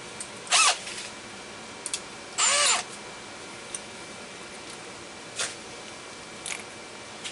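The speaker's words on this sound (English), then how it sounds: "I'm going to drill this hole out just a little larger" Short bursts of a power drill enlarging a hole to 3/16 inch whir and whine, two main runs followed by a few brief taps, close up against a quiet background.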